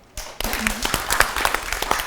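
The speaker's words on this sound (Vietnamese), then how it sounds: "hai bạn rất xứng đáng được mọi người cho một tràng pháo tay" An audience breaks into sustained applause after a quiet opening, clapping filling the hall at moderate volume with a voice briefly audible near the start.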